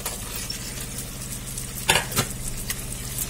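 Potatoes for dum aloo fry in a pan with a steady sizzle, and two sharp scraping clinks from a spoon come near the end; no one speaks.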